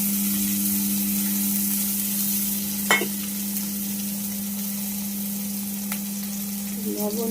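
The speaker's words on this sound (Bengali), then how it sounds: "আর এখানে কড়াই গরম আছে, এই আলু ভাজছিল।" Potatoes fry in a hot kadai, giving a steady, loud sizzle throughout with a brief utensil clatter partway through and another near the end.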